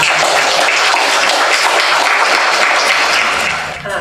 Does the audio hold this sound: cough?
no